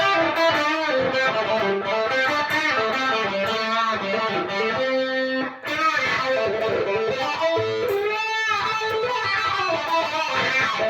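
Heavily distorted electric guitar through stacked fuzz pedals plays chords and riffs with a thick, saturated fuzz tone, loud and continuous, with a brief dip midway.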